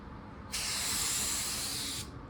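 An automotive paint spray gun laying down a blend coat of car paint, releasing one steady, close hiss of about a second and a half that starts and stops abruptly against quiet room tone.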